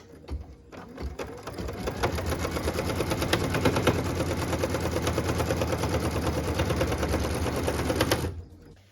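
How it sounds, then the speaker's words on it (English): A sewing machine stitches the tack-down line for piece number 8 of a Log Cabin quilt block, running as a steady, fast mechanical whir and needle clatter for about eight seconds before stopping abruptly. "What we're stitching now is the tack down line for piece number 8."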